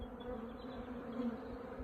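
Honey bees humming steadily inside a hive box in an apiary, a continuous low drone with no voices over it.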